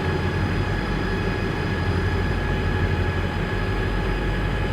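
A steady, loud low drone of big engines runs continuously and unchanging, like powerful marine motors heard from on board a triple-screw jet boat.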